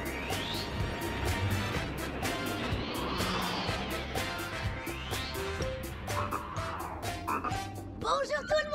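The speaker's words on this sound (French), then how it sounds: "Une grenouille qui voyage en cachette" Cartoon frog croaking from inside a box, repeated rhythmic croaks layered over lively musical background with sweeping tones, fairly loud and continuous.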